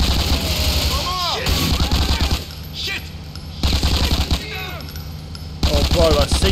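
Automatic gunfire from GTA IV: The Ballad of Gay Tony, with loud, dense bursts of rapid shots and short pauses between them, close and dominant throughout.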